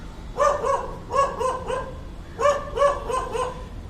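A dog on a street in Chennai barks sharply and close by, in two quick bursts of several barks each, separated by a short pause.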